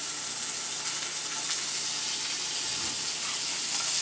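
Thick-sliced buckboard bacon fries in a hot cast iron skillet, giving a close, steady, dense sizzle and crackle with no voices over it.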